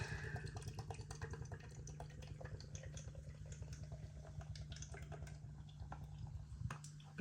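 Stone & Wood Hinterland Big Pale Ale poured vigorously from a can into a glass, a continuous close gurgling, splashing and fizzing stream that lasts throughout with no talk.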